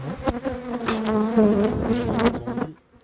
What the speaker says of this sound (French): Pas forcément beaucoup de butineuses hein, qui rapportent du pollen